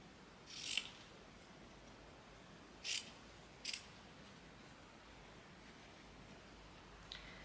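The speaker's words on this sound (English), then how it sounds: "I need to cut off some of these fabric pieces." Scissors snipping through fabric scraps for a crazy quilt block, three or four short, crisp cuts spaced a second or two apart, close but fairly quiet against a soft background hiss.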